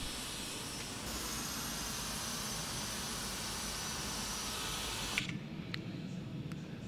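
Jet engines of a Cessna Citation 550 in the Prepar3D flight simulator hold a steady, loud broadband roar with a high whine, shifting in tone about a second in and dropping sharply near the end, with faint clicks after.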